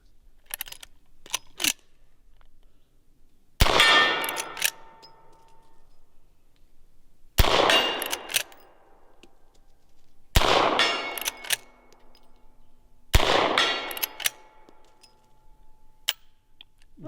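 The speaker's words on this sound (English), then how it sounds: "You were smacking that target out at 100 yards like it was nothing." A lever-action 1860 rifle fires four loud, widely spaced shots at a steel target 100 yards away, each shot a sharp crack with a ringing decay. Faint clicks and handling noise come between the shots.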